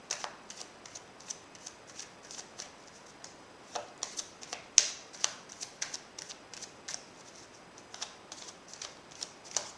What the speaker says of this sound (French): je peux mélanger mes cartes.